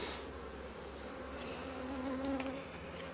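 Honeybees drone steadily from open brood frames in a hive during an inspection, a close, continuous low buzzing with occasional individual bees rising in pitch as they fly past.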